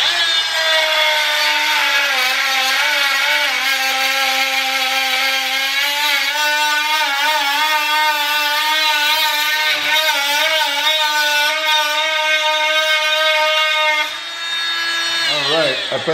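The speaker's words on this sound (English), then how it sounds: "I'm gonna try to cut it just on the other side of the threads." Dremel Multi-Max MM45 oscillating multi-tool cutting through a threaded piece just past the threads, a loud, steady high-pitched buzzing whine with shifting tones that runs continuously for about fourteen seconds before a brief dip near the end.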